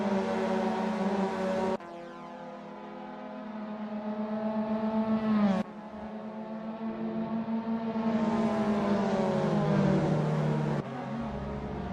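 Mazda MX-5 race cars scream around the track, engines climbing in pitch through repeated upshifts with abrupt breaks where the note drops and restarts, a loud, close, buzzing rasp with no voices.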